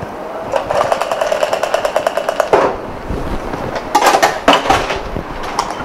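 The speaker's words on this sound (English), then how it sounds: "You want to shake it well for the black radish" A cocktail shaker holding a black radish drink rattles rapidly and loudly up close with ice, a fast regular shaking that pauses briefly and then resumes in harder bursts.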